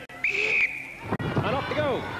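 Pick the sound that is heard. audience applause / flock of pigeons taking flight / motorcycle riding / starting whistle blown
starting whistle blown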